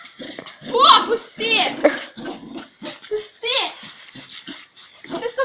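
A dog whines and yelps in short bursts close by, tangled with excited human voices talking over it.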